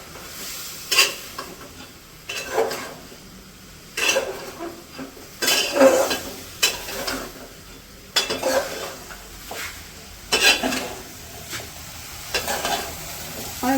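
Vegetables cooked with dried shrimp stirred in a pot in a village kitchen, with repeated bursts of utensil scraping and clinking over a steady sizzle, close and moderately loud, no talking.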